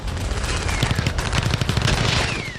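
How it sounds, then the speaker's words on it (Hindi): Rapid, continuous gunfire from Russian troops advancing on Ukrainian positions in Vovchansk, Kharkiv, sounding as dense overlapping bursts of shots throughout, loud and sustained, with no voices. "यूक्रेन के ठिकानों पर लगातार फायरिंग कर रूसी सैनिक आगे बढ़ रहे हैं"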